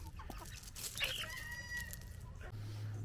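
Silkie chickens squabbling at close range: sharp clucks and a shrill, drawn-out squawk in a brief, agitated flurry.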